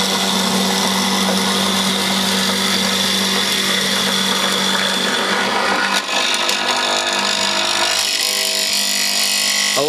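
A power tool whines continuously while cutting through mortises in a timber door, a loud, steady, close machine drone that holds for the full stretch with a slight change in pitch toward the end.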